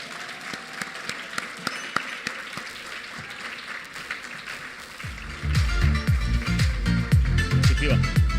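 Audience applause rings out at an awards gala dinner, with scattered claps first and then a loud, sustained burst of clapping from the whole room, along with music.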